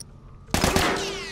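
A sudden burst of rapid automatic gunfire in The Last of Us, loud and close, cracking in after a near-silent moment and trailing off into a ringing tail.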